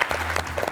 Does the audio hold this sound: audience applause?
yes